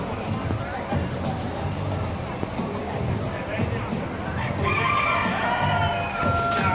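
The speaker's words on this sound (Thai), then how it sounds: "นี่ครับ ไก่ดำอินโดนีเซียนะครับ" An Indonesian black chicken at a poultry show crows amid clucking fowl, with people talking and a babble of crowd noise around it; the crow rises loud toward the end.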